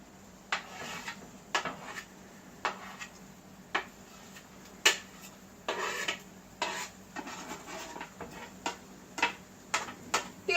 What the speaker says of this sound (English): I'm going to brush my onions and my scapes right into the pan